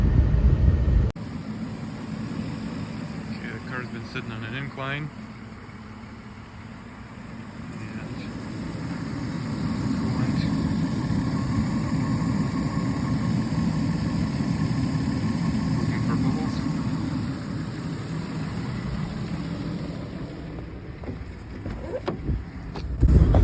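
A Nissan truck sits parked on an incline with its engine idling, a low steady rumble running on under occasional talk by a man close by.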